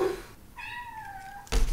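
A house cat gives a single rising and falling meow, close and clear, at home while ice cream rolls are being made, with a brief clatter right after it.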